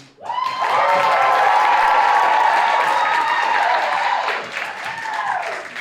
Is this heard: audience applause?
yes